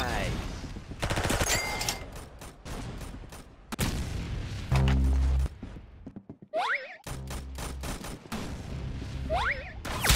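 Rapid gunfire rattles in the Roblox shooter Arsenal, loud bursts of repeated shots with a few heavier booms and short gaps, alongside game effects and occasional voices.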